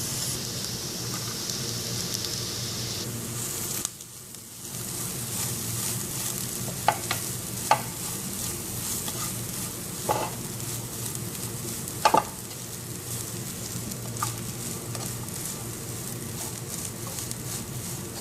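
Chicken being stirred in a hot pan with turmeric, pepper and garam masala, giving a steady sizzle broken by a few sharp scrapes and clicks of the spoon against the pan, with no talk.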